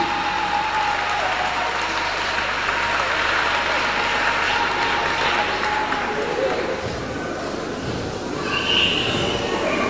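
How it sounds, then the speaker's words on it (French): A church congregation claps in response at a French-English revival sermon, steady dense applause filling the whole stretch at moderate level, with voices mixed in. "If you agree, clap for Jesus."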